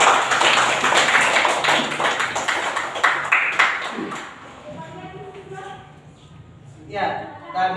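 A classroom group claps together, with dense overlapping hand claps for about four seconds that then fade out, followed by a speaking voice.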